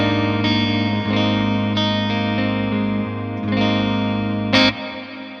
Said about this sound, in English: Yeah, I really like that reverb with this clean channel.